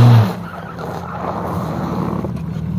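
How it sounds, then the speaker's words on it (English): Jeep 4x4 with an open front differential spinning its lowest-traction tire, a steady engine drone and tire whir holding on continuously at close range after a brief louder start. "it's going to be whatever tire with the least amount of traction is going to spin."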